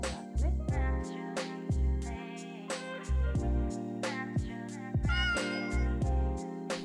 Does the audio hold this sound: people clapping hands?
no